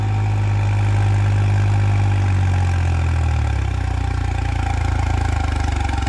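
New Holland 3630 tractor engine working hard under heavy load at a demonstration: a loud, steady low diesel drone with a deep throb that shifts pitch partway through, running alone without talk.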